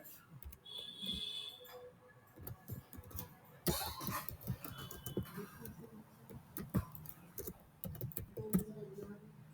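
Fingers type on a computer keyboard in a run of quick, irregular key clicks, close and fairly quiet, with brief pauses between bursts.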